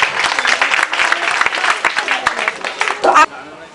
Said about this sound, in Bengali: জোরে করতালি সবাই মিলে।